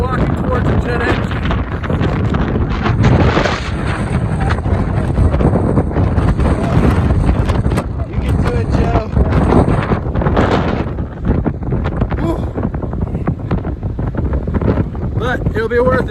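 Strong gusting wind in Iceland buffeting the microphone, loud and continuous with rough surging roars throughout, nearly drowning a voice that speaks briefly underneath.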